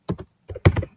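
Keys on a computer keyboard clack in two quick bursts while code is typed: a pair of taps, a pause, then a fast cluster of close, crisp keystrokes.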